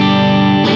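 A lead guitar plays through a Hughes & Kettner Black Spirit 200 floor amp with reverb, a loud sustained distorted note ringing for under a second before cutting off.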